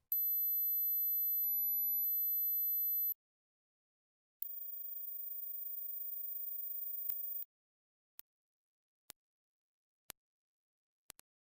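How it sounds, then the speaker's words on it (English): Pure high-pitched sine test tones from a hearing test, two sustained steady tones of about three seconds each separated by a gap, followed by several very short isolated bleeps, with no voices. "How many of the following sounds can you hear? How old are your ears?"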